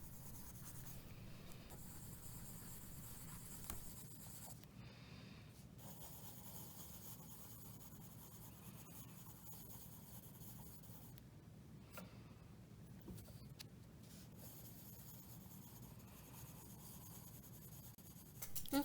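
A pencil shading on paper for a hatching and cross-hatching value scale, with an eraser rubbed in circular motions; soft, continuous scratchy rasping close by, faint and steady with occasional stronger strokes.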